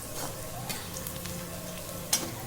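Paneer gravy ingredients fry in a pan with a steady soft sizzle, a few faint stirring scrapes and one brief sharp clink near the end, quiet and close.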